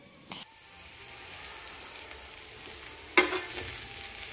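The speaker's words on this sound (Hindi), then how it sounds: "बस इसको थोड़ी सी तेज आंच पे मैं थोड़ी देर भून लूँगी" Fried rice sizzles in a pan over high heat as it is stirred and tossed, a steady close hiss broken by scraping stirs and a sharp burst of clatter near the end.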